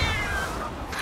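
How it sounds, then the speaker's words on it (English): A cat yowls as it is fired out of a cannon in the pirate video game Sea of Thieves, a loud, strained, continuous caterwaul with a falling pitch that lasts about a second, heard alone. "the cat makes the worst sound when launched out of a cannon"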